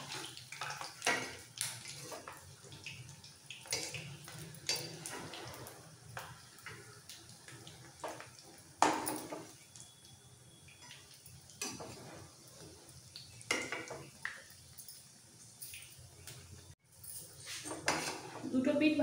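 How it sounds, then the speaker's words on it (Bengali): Pakoras turned over in hot oil in a pan while frying for a Punjabi curry pakora, with scattered clinks of utensil against metal and a steady bubbling sizzle underneath; a voice talks intermittently. "পকোড়াগুলো উল্টে দেবো।"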